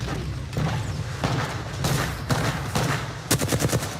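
Gunfire in Apex Legends, a loud close series of shots and booming thumps, ending in a rapid automatic burst, with no voices.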